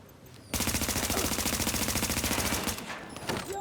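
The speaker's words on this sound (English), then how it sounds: "Setting up the turret." Deployed turret firing in a video game, starting abruptly as a loud, fast, evenly spaced automatic stream that lasts about two seconds, then tails off into scattered shots and effects.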